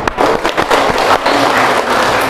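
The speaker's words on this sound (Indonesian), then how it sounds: "Beri tepuk tangan." Audience at a motivational seminar breaks into loud, dense applause that fills the whole moment, a steady wash of many hands clapping with a few sharper claps standing out.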